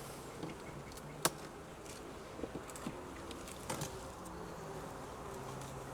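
Honey bees hum and drone around an open hive during a frame inspection, a steady insect buzz with a few brief sharp clicks and taps from handling the frames.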